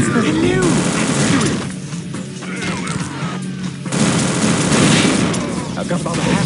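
Dense, loud bursts of rapid automatic gunfire and booms in an Unreal Tournament 2004 deathmatch with ballistic weapons, continuous crackling fire that dips briefly before surging again, with a voice talking over it.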